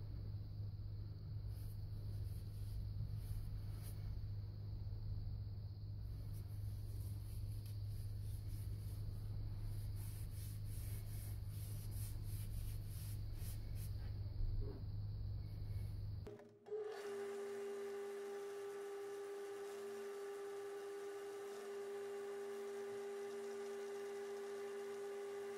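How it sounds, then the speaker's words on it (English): A wood lathe runs steadily while turning a Brown Mallee burl natural edge bowl, a loud continuous low rumble with scraping, then cutting off abruptly partway through, leaving a quieter steady tonal hum. "and then I'll turn the lathe on."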